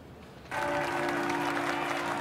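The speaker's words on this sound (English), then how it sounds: "they're clapping for him" A crowd bursts into sustained applause in a TV drama scene, starting abruptly and continuing as dense, loud clapping with no voices on top.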